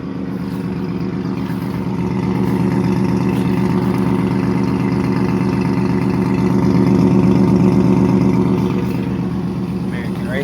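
A 1999 GMC Safari van idling after a cold start, a steady low engine drone with a constant rhythmic exhaust pulse that swells slightly in loudness midway, heard close and alone.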